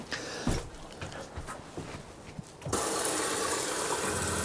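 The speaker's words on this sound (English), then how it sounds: "We've got running water." Cold water gushing from a tap in a van conversion, starting abruptly partway through as a steady loud broadband rush, after a few seconds of faint clunks and handling noises.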